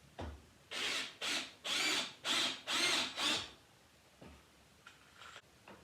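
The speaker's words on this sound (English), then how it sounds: "drill some pocket hole screws on the long side" A power drill whirs in five short bursts with brief pauses between, driving pocket hole screws into the long side of a wooden bench, followed by a few quieter clicks and taps.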